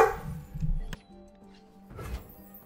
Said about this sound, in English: I'll put the dogs in the other room.